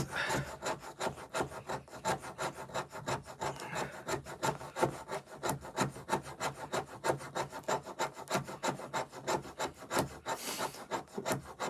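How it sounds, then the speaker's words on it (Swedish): The 90-degree spine of a Condor Bushlore knife scrapes along wood in fast, even rasping strokes, a close, rhythmic scratching repeated dozens of times without pause. "Det är ju 90 graders rygg på Bushlore så den funkar väl hyfsat att skrapa men absolut."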